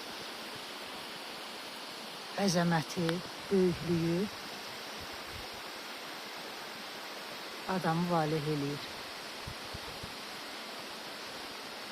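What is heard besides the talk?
Laza waterfall in Qusar, flowing among steep cliffs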